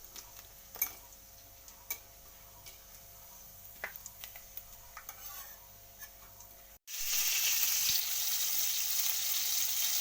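Ginger paste drops into a hot frying pan and breaks into a loud, steady sizzle close by, after a quieter stretch of faint ticking and light crackles.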